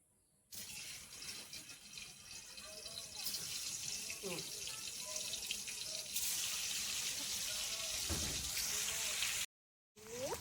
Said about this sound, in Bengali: এবার আমি পনিরগুলো ভেজে নেব। এরকম একটা একটা করে পনির দিয়ে দেবো।